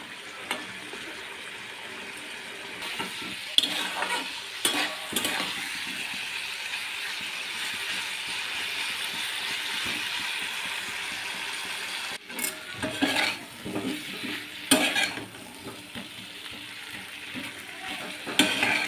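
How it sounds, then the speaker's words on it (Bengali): Spice paste with sugar for an elephant foot yam and prawn curry fries in hot oil, a steady close sizzle broken by repeated spatula scrapes and clatters against the pan, with no voices. "এবারে ভালো করে মশলার সাথে সব কিছু কষিয়ে নেব।"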